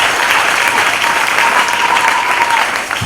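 A church congregation claps steadily throughout a Sunday worship service, a dense continuous wash of applause that fades slightly at the very end.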